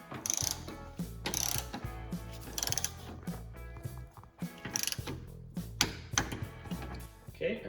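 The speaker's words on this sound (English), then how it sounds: "we will torque these up to 20 foot-pounds" Ratchet clicking while torquing sway bar end link bolts on an NA Mazda Miata: repeated close bursts of rapid pawl clicks in uneven strokes, with clanks of tools in a garage.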